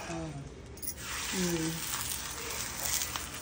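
Bakshalu flatbread roasts with ghee on a pan, giving a faint, soft sizzle in the background while someone talks over it.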